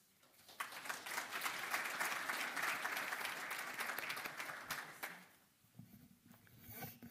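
Sustained applause from a conference audience welcoming two speakers onto the stage at an international railway summit, steady and full for about five seconds before tapering off into quiet room tone.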